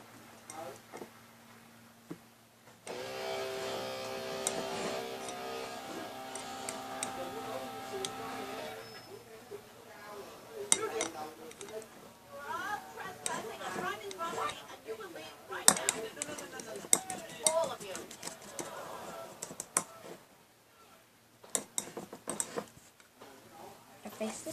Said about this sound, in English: So stir. It's hard to stir with one hand.